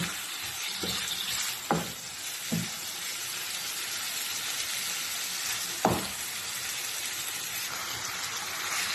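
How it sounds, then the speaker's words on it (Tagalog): Steady frying sizzle from a pan of sautéing tomatoes and onions, with a few sharp clinks of a utensil against the cookware scattered through. "Gisa muna ako ng kamatis at saka sibuyas."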